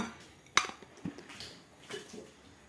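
A plate is picked up off a table at home, one sharp clink of dishware followed by a couple of softer knocks and rustles, close and fairly quiet.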